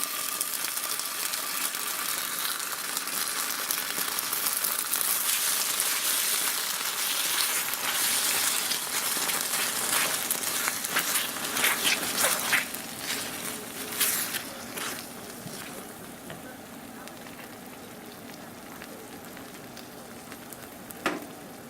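Sweet and sour sauce warms in a frying pan with a steady, close sizzle and crackle that gradually softens toward the end, punctuated by a few light scraping clicks, with no talking.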